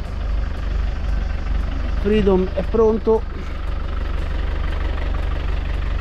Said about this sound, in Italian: Siamo pronti, i motori ruggiscono,